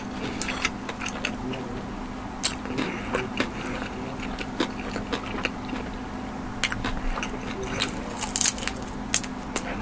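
Fried dumplings being eaten at close range, with crisp bites and crackly chewing clicks scattered over a steady low background hum, no talking.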